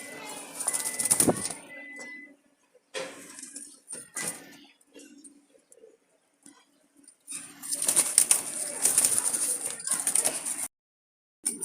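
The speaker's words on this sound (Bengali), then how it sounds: "ফ্রেশ কবুতর এগুলো প্রত্যেকটাই।" Jalali pigeons in a loft, with soft low cooing and several bursts of wing flapping and fluttering, close and moderately loud, separated by short quiet gaps.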